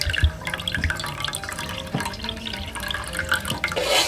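Liquorice root drink (Syrian-style sous) being poured into a container, giving a steady splashing, dripping liquid sound with small drips and trickles throughout, fairly close and unaccompanied by talk.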